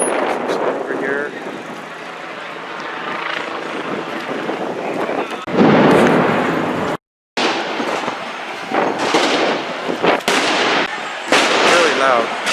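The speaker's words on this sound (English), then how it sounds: "I can hear very loud explosions." Police flash grenades go off at a riot-declared street protest on 12th Avenue in Seattle, giving loud, sharp booms over steady wind buffeting the microphone, with a voice talking nearby between the blasts.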